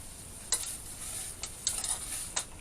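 A spoon stirs meat sauce with Maggi seasoning and liquid smoke in a pan, giving soft scraping strokes over a steady low sizzle, with a few sharper clicks of the utensil.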